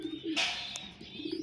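A racing pigeon coos softly and close by, a few low, rounded cooing notes with a brief higher chirp-like sound in the middle, set against quiet background noise.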